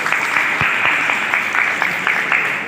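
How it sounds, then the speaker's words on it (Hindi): Children clapping together in a school classroom or assembly, a steady run of fast, crisp claps that keeps an even pace throughout, with a few sharper individual hits standing out. "तालियां, बहुत अच्छा।"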